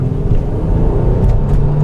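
A 2014 Mercedes E350 4MATIC wagon's V6 engine pulls hard under acceleration, a steady low rumble heard from inside the cabin.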